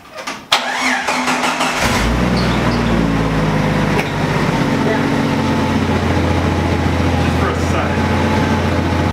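A car engine cranks and fires up after alternator and belt work, settling into a steady, loud idle that holds for several seconds.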